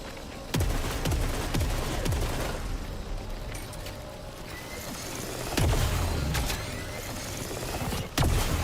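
Charged weapon shots fire in the video game Saros, a few sharp booming blasts spaced apart over a dense, steady game soundscape with no talking.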